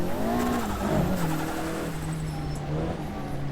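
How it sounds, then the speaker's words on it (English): Tyres squeal steadily as a four-wheel-drive car spins donuts off-road in the Automobilista 2 racing game, the engine droning under a continuous, wavering screech with no talk. "Donuts galore in a four-wheel drive car."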